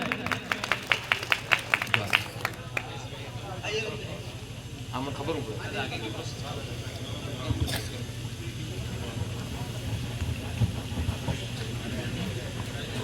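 Audience at a welcome ceremony for a member of parliament and legislators claps loudly in a quick burst at the start, then fades under continued crowd noise and talk.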